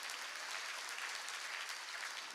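Steady, dense applause rises from a church congregation during a spring revival service, a uniform wash of many hands clapping together without pause, heard from a distance and fairly quiet.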